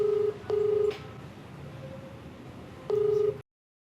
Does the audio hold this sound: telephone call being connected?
yes